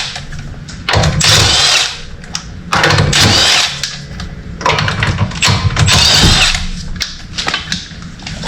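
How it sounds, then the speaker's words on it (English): A power tool with a 3/4 socket spins off the wheel lug nuts of a salvaged 2020 Buick Regal Sportback, several loud whirring bursts of about a second each, separated by short pauses, close and with no talking. "you want to proceed to remove the lug nuts. I'm using a 3/4 socket."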